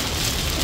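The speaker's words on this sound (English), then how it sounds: "it's raining like crazy" Heavy rain pours down around a kayak out fishing near the Seven Mile Bridge in Marathon, Florida, a dense, loud, steady hiss of drops striking water and surfaces, no voices.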